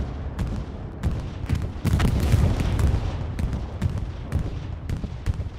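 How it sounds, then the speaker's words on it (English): During a bombing run in Hell Let Loose, explosions and gunfire crack and boom repeatedly, sharp reports scattered over a rumbling heavy stretch in the middle, loud and close. "Bombing run on its way."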